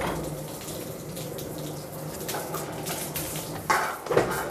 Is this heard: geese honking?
no